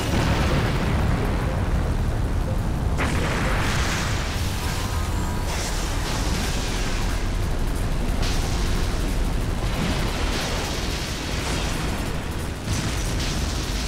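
Homing rockets explode over and over in the SkyDrift aerial racing game, a dense, loud run of booms and bursts layered over constant engine roar with no pauses.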